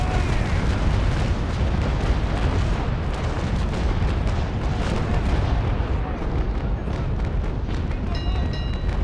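Ship cannons fire in a naval battle in the game Naval Action, a dense, continuous rumble of booming broadside shots layered over one another without pause.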